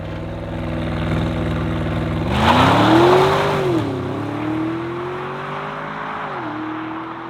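Audi SQ7 seven-seater accelerating hard to 60 mph, engine note climbing from a deep rumble into a rising, surging roar with shift dips, loud and close with no talking.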